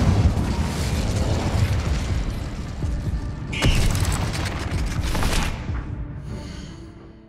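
The Incendio fire spell in Hogwarts Legacy roars as a sustained fiery burst with crackling bangs, a sharp bright pop midway, then fades out at the close.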